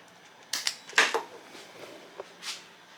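An emergency stop switch on a home-built CNC router clicks and clacks through a few sharp mechanical snaps, close and fairly loud, then the machine goes quiet.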